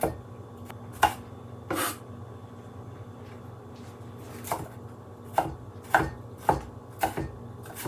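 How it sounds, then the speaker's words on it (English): Julienned carrots chopped into tiny dice with a knife on a cutting board, a string of sharp, close knife strikes in uneven bursts with short pauses between them. "So we're going to chop them this way."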